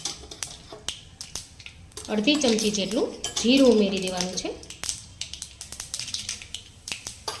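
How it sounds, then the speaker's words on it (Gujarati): Mustard seeds crackle in hot oil with cinnamon and other dry spices while sev dungri nu shaak is made, giving a steady run of sharp pops and spits, close up, as someone talks over it. "રાઈ થોડી તતડવા લાગે"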